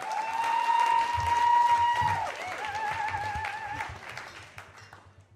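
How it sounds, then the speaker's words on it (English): Audience applause for a storyteller at a live storytelling show, a crowd clapping steadily and fading out near the end, with a sustained whistle-like tone over it. "big round of applause for our next storyteller, Tracy, everybody."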